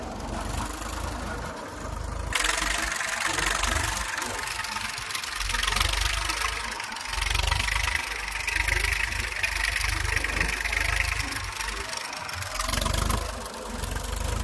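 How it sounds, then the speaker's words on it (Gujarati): A tractor engine chugs and rumbles steadily nearby, a low throbbing drone with a rising mechanical roar, and a few voices in the background. "હાથિયું નીકળતી જાય છે ટ્રેક્ટરે"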